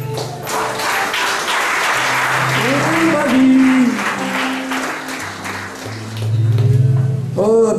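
Congregation applauding during a church service, a dense continuous clatter of clapping under sung or chanted voices that rise and fall throughout.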